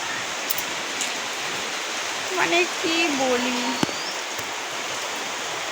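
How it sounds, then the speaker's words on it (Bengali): Steady rain falls as a continuous broadband hiss throughout, with a person speaking briefly over it partway through. "তো দেখো এখন বৃষ্টি পড়ছে"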